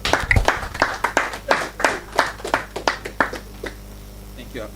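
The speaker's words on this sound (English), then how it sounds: "a round of applause for him" A small audience at an investing talk gives a sparse round of applause, a loose series of distinct, close individual claps that thins out and fades after a few seconds.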